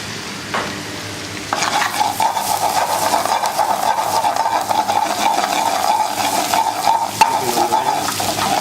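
Prawns cooking in a hot pan for shrimp scampi make a close, loud sizzle that starts quietly, then swells into continuous crackling frying with occasional stirring scrapes.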